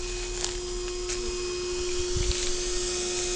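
A vacuum drones steadily close by as it sucks a bee swarm out of the grass, with a constant mechanical whine and hum and a few faint bumps and rustles.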